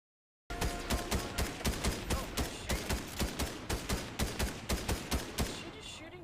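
Rapid, evenly spaced gunfire in the Aether & Iron video game, about sixteen sharp shots in a steady rhythm, loud and close, with no talk over them.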